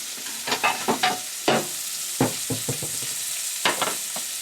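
Halibut fillet frying in browned butter with rosemary and capers, a steady close sizzle broken by soft scrapes and stirring clatters from the pan.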